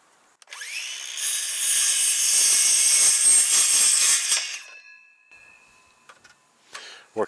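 A handsaw rasps steadily through firewood for a few seconds, loud and close, then stops, followed by a few faint knocks and clicks.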